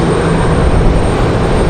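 An Airbus A319 airliner taxis at an airport, its jet engines producing a loud, close, continuous broadband roar and whine with no breaks over the short stretch.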